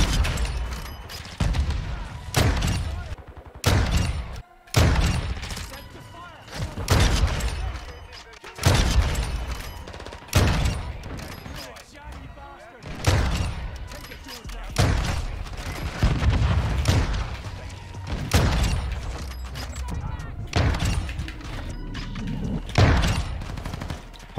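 Sniper rifle fire in a first-person shooter video game, Victus XMR class setup: a string of loud, sharp booming shots at irregular intervals, with a player's voice talking over them.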